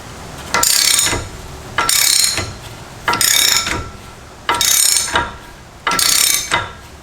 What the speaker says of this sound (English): you're going to need a large ratchet or a cheater bar,